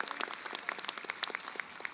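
Crowd applause: many hands clapping in a dense, steady patter at moderate volume, with no voices over it.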